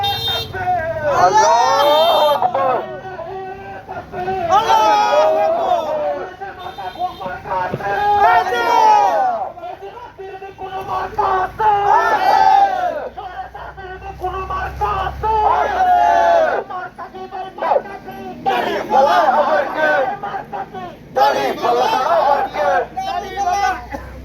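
A large crowd at a political rally chants slogans in loud rhythmic waves, with a leader calling lines and many voices answering together, repeated call-and-response bursts with brief gaps between them.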